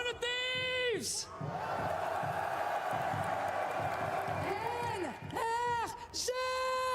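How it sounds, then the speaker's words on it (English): Crowd at a Valorant esports final between 100 Thieves and NRG, a loud sustained roar of cheering and chanting in a large arena, with shouted calls rising at the start and end. "this crowd is amazing"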